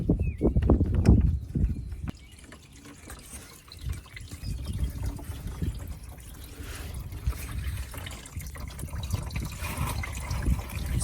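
Coolant drains out of a car radiator into a kid's toy cart during a thermostat replacement, giving an uneven run of splashing and trickling liquid with some knocking, mostly close and moderately loud.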